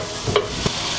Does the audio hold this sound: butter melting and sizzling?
yes